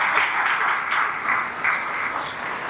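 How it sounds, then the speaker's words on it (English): Audience applauding award winners at a chamber of commerce celebration, a steady wash of clapping from a room full of people, moderately loud and continuous. "Let's give them a round of applause"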